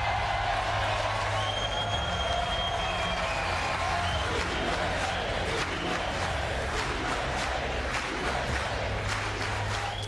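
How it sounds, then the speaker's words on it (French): Sustained applause in the US Congress, carried over a radio broadcast: a dense, steady wash of clapping and crowd noise that runs without a break from start to finish, fairly loud and diffuse, with a low hum underneath. "Je laisse un peu les applaudissements parce que c'est ce qui s'est passé cette nuit devant le Congrès"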